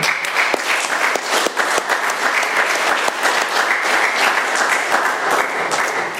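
Steady, dense applause from a roomful of people at an Alcoholics Anonymous meeting in Doylestown, PA, close and loud, continuing without a break for several seconds.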